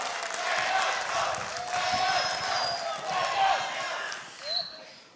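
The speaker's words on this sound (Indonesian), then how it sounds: "boleh tepuk tangan yang paling meriah untuk debat ketiga calon ketua umum BPP HIPMI" A hall audience applauds and cheers at the third debate between candidates for chair of BPP HIPMI. The dense crowd noise is moderately loud and fairly even, swelling slightly near the end.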